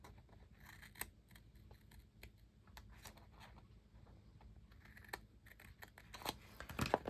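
Small scissors trim a sticker number 1 on a title page. Quiet, scattered snips and paper rustles come in irregular clicks, and a louder cluster of cuts arrives near the end.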